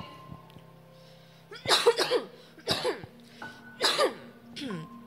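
A few sharp coughs and throat-clearing bursts in quick succession, close to the microphone, over a faint steady background hum.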